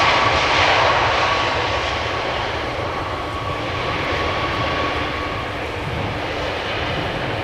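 Steady roar of an Icelandair Boeing 767's engines at Amsterdam Schiphol Airport, loud and constant and slowly easing off, with no voices.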